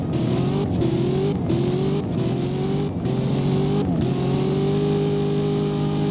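Cadillac Escalade V SUV in the Driving Empire video game, its engine revving loudly and climbing through repeated gear shifts, with brief drops in pitch between each rise, close and continuous with no talk.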